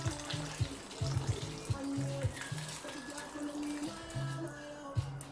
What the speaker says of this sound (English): So now I'm just gonna add a little bit of water